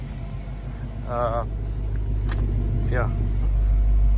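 Dodge Hellcat engine rumbling steadily from inside the car while driving around the block, a low continuous drone with someone speaking briefly over it.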